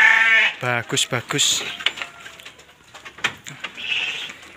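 Dorper crossbreed sheep bleat loudly and nearby, one long wavering cry followed by several shorter bleats, with someone speaking briefly amid shuffling farm-pen noise.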